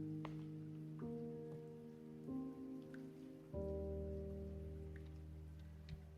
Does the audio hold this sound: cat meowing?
no